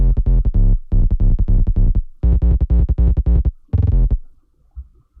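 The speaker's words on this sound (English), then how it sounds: "this is the sub bass" A distorted sine-wave sub bass from a remix plays in choppy rhythmic bursts, loud and buzzy with gaps between phrases, alone and trailing off at the end.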